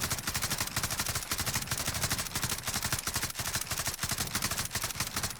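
Rapid, unbroken stream of light machine gun fire in a video game, sharp shots packed closely together for several seconds, loud and with no talk over it.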